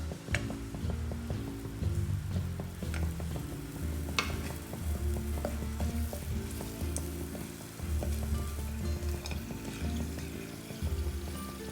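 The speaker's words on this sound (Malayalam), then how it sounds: "കുറച്ച് എണ്ണ ഒഴിച്ചിട്ട് കായ മൂക്കണം" Asafoetida frying in oil in a pan while a radish sambar is being made, with a continuous close sizzle broken by sharp crackles and the scrape of stirring, and no talking.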